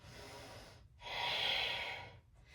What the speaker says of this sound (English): Big Ujjayi breaths.